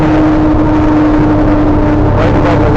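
Aggressive tires hum on the road from inside a moving vehicle at about 45, a loud, steady drone with a constant low tone and no voices.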